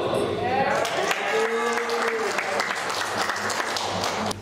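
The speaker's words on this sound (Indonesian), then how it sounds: "Boleh tepuk tangan sekali lagi" An audience applauds at a political gathering, a dense sustained wash of clapping lasting several seconds with voices mixed in.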